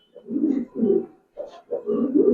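Close, fairly loud cooing from a Giribaz pigeon comes in four rounded, burbling bursts with short silent breaks between them, the bird heard alone.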